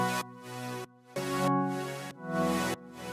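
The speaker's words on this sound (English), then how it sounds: "this other synth that includes an organ and a super sauce synth together sounds like" Layered synth blending an organ tone with a thick super sauce synth, sustaining full chords in a few long held swells with short breaks, heard alone with no speech.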